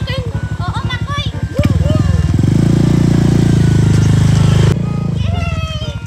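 A voice imitates a motorcycle engine during pretend play: a steady buzzing drone holds for a few seconds, with children chattering before and after.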